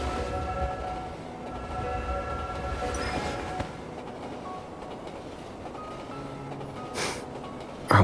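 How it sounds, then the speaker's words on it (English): A train in the video game Love and Deepspace pulls away, a steady rolling rumble with tonal hums from the carriage, a soft thump partway through and a sharp burst at the very end. "Hold on tight. The train is about to leave."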